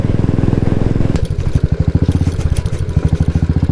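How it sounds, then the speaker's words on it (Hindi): A Royal Enfield Bullet motorcycle engine thumps steadily nearby in a loud, even rhythm of low pulses, with a brief rougher patch before the beat settles again. "और वो रही मेरी प्यारी बाइक नितेश के पास, एंड नितेश की बुलेट मेरे पास"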